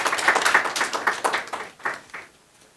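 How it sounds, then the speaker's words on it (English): Applause at an awards ceremony: a handful of close, distinct hand claps in an uneven rhythm, fairly sparse and thinning out toward the end, with no talk over them. "A big round of applause for all the awardees getting awarded today."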